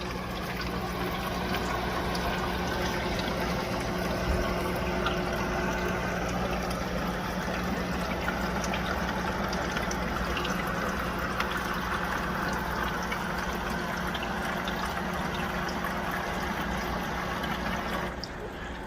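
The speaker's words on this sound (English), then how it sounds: "what I'm hearing is the sound of water flowing up and around and back down" Water flows continuously inside a G-Ocean evaporative tower fan, a steady rushing, trickling wash with a low motor hum, close and constant with no talk.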